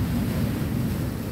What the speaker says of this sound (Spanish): el vaivén de las fuertes olas se intensificaron en la costa de Colima